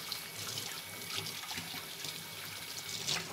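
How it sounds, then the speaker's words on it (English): Tap water runs steadily into a sink as hands are rinsed under it, a continuous close splashing with small bursts and no talk. "Now Grandpa's going to rinse his hands off a little bit too"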